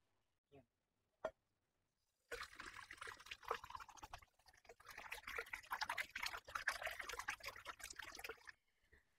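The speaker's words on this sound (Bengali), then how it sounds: "তো এখন আমি এগুলো ধুয়ে নিব।" Water pouring over freshly picked jujube fruits from a rooftop garden, a steady splashing trickle lasting about six seconds after two faint knocks, close and fairly quiet.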